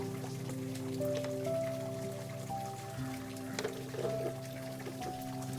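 Rain falls during an outdoor stingless bee hive inspection, a steady close patter on surfaces that runs the whole time alongside sustained humming tones.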